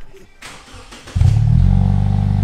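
A Lexus IS 300 fitted with a new aftermarket exhaust starts up and settles into a loud, deep, steady rumble after a second of quieter background noise, close to the tailpipe and heard alone.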